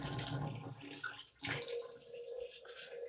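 Running tap water splashes over a small tap aerator part being rinsed, faint and close, with uneven gushes and a brief splash midway.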